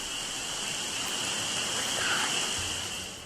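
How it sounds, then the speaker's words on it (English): Soft rain falls outdoors as an even, unbroken hiss of drops that holds at a constant level from start to finish. "A soft rain falls"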